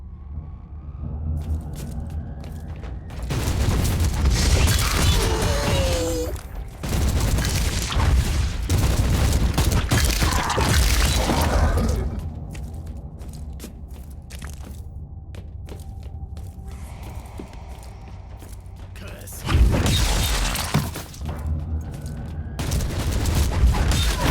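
Grenade explosions in the Warhammer 40,000: Inquisitor - Martyr video game go off as repeated loud booms and rumbling bursts, with bouts of battle noise between them and a final heavy blast near the end.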